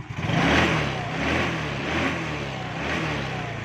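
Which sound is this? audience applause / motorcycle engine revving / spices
motorcycle engine revving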